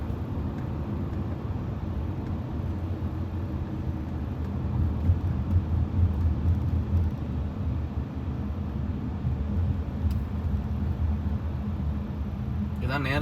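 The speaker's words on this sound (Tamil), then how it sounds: "ஆனால் வந்து வண்டி போயிட்டுருக்கு." Steady street traffic in Saudi Arabia, a continuous low rumble of vehicles passing that swells briefly midway, with faint voices underneath.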